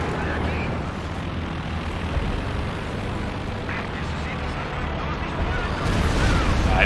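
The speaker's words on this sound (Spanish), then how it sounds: "Ahí les llega el bombardeo." Aircraft roar and explosive rumbling from a bombing run fill a dense, noisy wash of battle sound in Company of Heroes 2, loud and continuous throughout.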